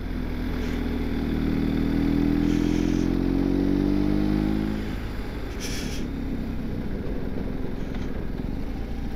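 A motorcycle engine rumbles up close, its pitch rising as it revs and accelerates, then settling into a steady, rougher idle-like drone.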